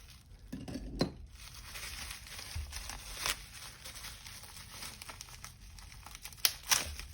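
Plastic shrink wrap on a tarot deck being cut and peeled open close up, with soft crinkling and crackling, a few sharper snaps and tearing bursts near the end, no talking.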